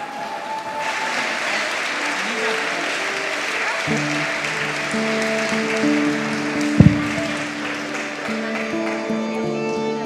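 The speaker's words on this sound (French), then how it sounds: "je vous demande de les applaudir" Audience at a tango festival applauds the dancers with dense, sustained clapping close by, as sustained musical tones rise beneath it and one sharp knock stands out near the end.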